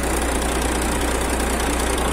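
A Volvo truck engine running, a loud, steady, close diesel drone with a constant low rumble and no change in pitch.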